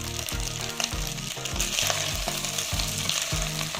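Rice and sausage sizzle loudly in a hot pan with freshly chopped parsley, broken by a steady rhythm of spoon scrapes as everything is stirred together, with no voices.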